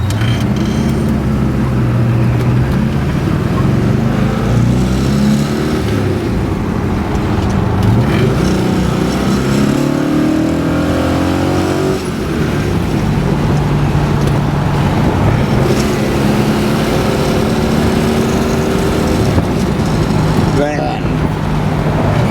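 A 1966 Pontiac GTO convertible with Tri-Power carburetion and a four-speed manual pulls hard through the gears, its engine note rising and dropping with each shift, loud and close over steady road and wind rush.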